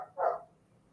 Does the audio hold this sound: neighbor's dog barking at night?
yes